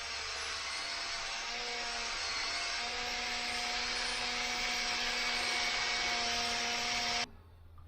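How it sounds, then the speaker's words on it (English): Paint buffing machine spinning fast on a motorcycle's paintwork, a loud, steady whirring whine that holds for about seven seconds before cutting off abruptly. "See how fast this is spinning? And I'm just barely holding the throttle."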